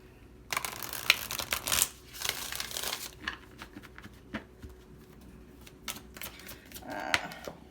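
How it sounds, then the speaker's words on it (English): A deck of tarot cards being shuffled by hand, giving a run of soft crisp riffles and flutters that come in bursts and then thin out into lighter card taps, close by with no talking. "I'm going to shuffle one more time"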